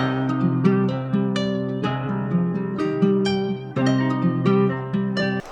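A dark, low-pitched melodic guitar loop, pitched down two semitones, plays alone, notes sustaining and repeating in a steady pattern.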